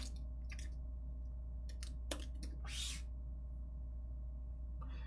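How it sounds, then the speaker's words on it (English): A search typed on a computer keyboard, heard as a few quick bursts of faint clicking keystrokes over a steady low hum, with no talking. "let me actually just type in Linux too"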